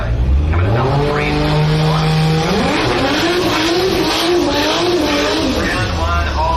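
Drag racing ute roaring down a drag strip, its engine climbing through sharp rising gear pulls, loud and continuous with crowd or commentary faintly underneath.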